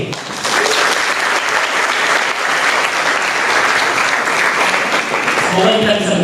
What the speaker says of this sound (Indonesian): Dan saya pengen kita tepuk tangan untuk diri kita semua